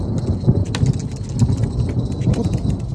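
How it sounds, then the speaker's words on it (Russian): A low continuous rumble of thunder rolls under steady rain at a carp fishing spot, loud and close with no talking. "Надеюсь, это гром?"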